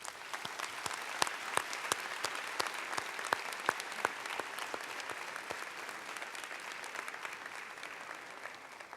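Graduates at a university convocation give a round of applause, a long even patter of many clapping hands with some louder individual claps near the front, moderately faint and spread through a large hall.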